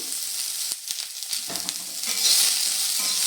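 Dal frying in a pan with turmeric and salt, a bright sizzle broken by short stirring scrapes that swells louder and steadier toward the end.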